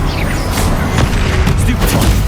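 Explosive blasts from Confringo, a fire spell cast in the Hogwarts Legacy video game during combat. Loud booming bursts repeat every half second or so over a dense rumble of battle noise, with a voice shouting spell names.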